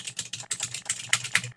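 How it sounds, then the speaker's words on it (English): A clacky mechanical computer keyboard typed on close up, about a dozen crisp, sharp key strikes in quick uneven bursts, with nothing else audible. "I like the sound of like clacky keys."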